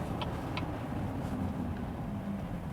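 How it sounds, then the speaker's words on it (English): A 2018 Cadillac CT6 luxury sedan's V6 engine hums steadily while driving, a low smooth drone with road noise and a couple of faint ticks. "Nice sound also from the V6"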